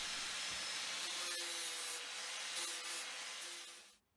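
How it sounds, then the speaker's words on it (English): An angle grinder fitted with a flap disc smooths the edges of a wooden bucket, giving a steady abrasive rushing hiss close by that cuts out abruptly at the end. "I'm just going to use a flap disc on my angle grinder to do this"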